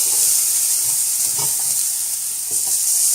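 Grilled chicken and zucchini pieces sizzle steadily on a hot grill right after being flipped, a constant bright hiss with a few soft clicks and pops near the surface.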